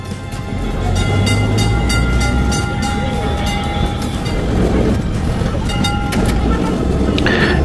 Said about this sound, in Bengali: একেবারে রাস্তার ধার ঘেঁষে চলেছে ট্রাম।